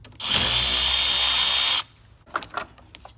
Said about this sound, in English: disconnect the negative terminal off the battery using a 10mm socket